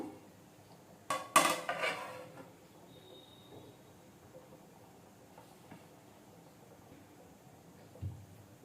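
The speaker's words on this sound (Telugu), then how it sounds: "మూత పెడదాము." A lid clanks briefly onto a cooking pot of Andhra-style mango fish curry, a sharp metallic rattle early on, then a quiet kitchen with a faint knock near the end.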